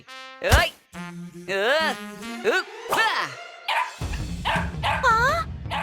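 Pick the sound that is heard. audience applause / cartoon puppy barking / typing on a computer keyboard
cartoon puppy barking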